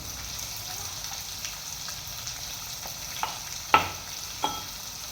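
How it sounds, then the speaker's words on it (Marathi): Onions frying in oil in a home kitchen pan, a steady soft sizzle with a few sharp clinks of a spoon stirring against the pan, no one speaking. "कांदा छान तळले"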